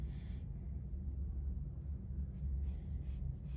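A pencil sketches lightly on paper with faint, soft scratching strokes, heard close but quiet over a steady low room rumble.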